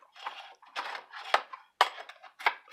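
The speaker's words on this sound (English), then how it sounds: "Anytime it hangs up anywhere, just run your spatula down beside it." A spatula scrapes along the side of a Detroit-style pizza pan in about six short, close metallic scraping strokes separated by brief pauses, with no voices.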